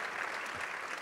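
An audience applauds at a film festival awards discussion, a brief steady wash of clapping heard at moderate distance with no voices over it.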